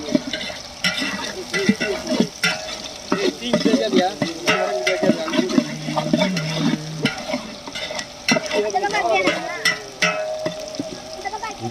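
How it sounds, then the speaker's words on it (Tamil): Onions and chilies frying in a pan over an outdoor village fire for biryani, a loud steady sizzle broken by clattering stirs and scrapes, with faint voices in the background. "ஆனியன் போட்டாங்க."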